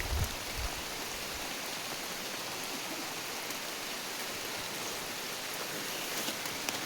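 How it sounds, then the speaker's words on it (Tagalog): Rain falls steadily over a rice field in the Philippines, a dense even hiss of drops that stays constant throughout, with no voices. "kahit na umuulan"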